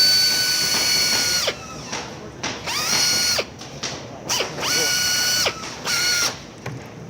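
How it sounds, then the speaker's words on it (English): A power drill drives screws into a Nightingale 3D arm pad in several short bursts, each whirring up and winding down with clicking ratchet sounds between, close and loud. "drill those in"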